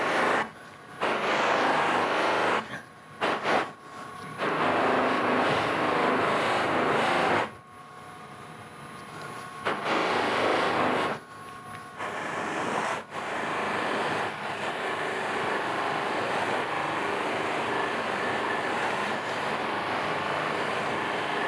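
A buffing wheel polishing a CA (cyanoacrylate) finish in a woodshop, a steady loud whirring roar that cuts in and out as the piece is pressed to and lifted from the wheel, with no talk.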